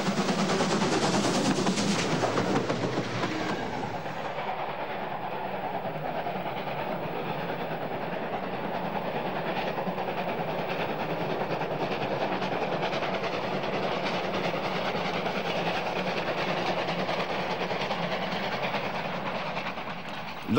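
Leipzig-based class 03 steam locomotive hauling a freight and express goods train along the Elster river, a steady loud rolling rumble with rail clatter throughout, louder in the first few seconds and no talk.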